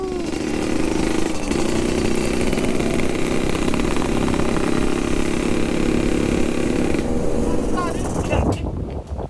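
An RX King motorcycle engine with a fault runs hard at full throttle and loud for most of the clip, a steady throaty roar that cuts off abruptly near the end.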